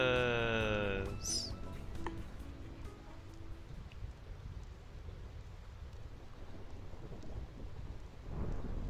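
Thunder and rain in the Final Fantasy X-2 video game: a deep thunder rumble opens over a musical tone, then steady rain hiss continues with faint low rumbling, with speech briefly at the start.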